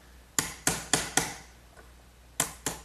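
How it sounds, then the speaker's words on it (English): Sharp chisel cleaning out mortises in wood for a dining table, six crisp percussive strikes, four in a quick run, then a pause and two more, close and moderately loud. "Now I'll clean out the rest of these 2 mortises with a good sharp chisel,"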